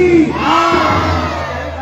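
Crowd at a Ramlila performance in Loharu, Haryana, shouting a loud religious jaikara cheer together, a brief massed chant of many voices close by.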